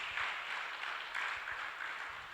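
A church congregation claps through a worship service, a steady, moderately distant wash of applause with faint rhythmic pulses throughout.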